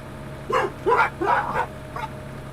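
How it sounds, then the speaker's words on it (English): A dog barks four times in quick succession, fairly close and loud, with short pauses between barks and the last one softer. "Dog's heard something."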